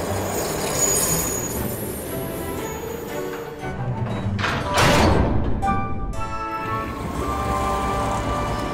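Cartoon trains rolling along rails toward the depot, with a rumbling run, squealing metallic wheel tones and a louder whooshing pass in the middle, over a bed of cartoon music.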